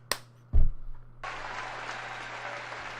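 Crowd applause from a packed CPAC audience that includes children, bursting in after a loud thud and then holding as a steady wash of clapping.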